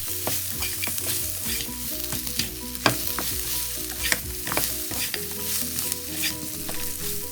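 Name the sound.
salt and pepper pork ribs stir-frying in a very hot wok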